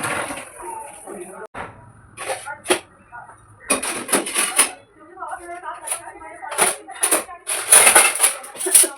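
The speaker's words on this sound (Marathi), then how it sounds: "तर आता पटापट भांडी घासून घेते, किचन क्लीन करून घेते, कुकरही खाली झाला आहे तर कुकरही घासून घेते," Dishes and a pressure cooker get scrubbed and rinsed at a kitchen sink, with clattering metal, scraping and splashing in uneven bursts, close and fairly loud, while a voice talks over much of it.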